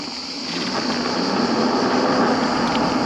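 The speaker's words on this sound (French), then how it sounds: "le bruit des pneus sur le goudron" Tyres of a Hunter Quad M5 electric scooter rolling fast over asphalt give a steady, loud broadband roar with a thin high whine running over it, close up and alone.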